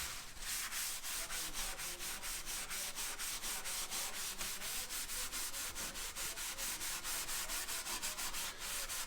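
Pad scrubbing surface rust off metal, a steady rapid back-and-forth rasping with even rhythmic strokes, close and continuous with no talking.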